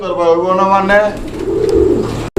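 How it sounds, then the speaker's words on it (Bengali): Pigeons coo up close in low, warbling, throaty calls, followed by a softer rumbling coo and a brief cutoff at the end. "পছন্দ হলে যোগাযোগ করবেন কবুতর দেখেন আপনারা"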